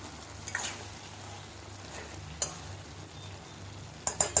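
Cooked vegetables (turiya, ridge gourd, with raw banana) stirred in a pan, with faint sizzling under a few soft scraping and clinking utensil hits, one near the start, one mid-clip and a small cluster at the end, no talking.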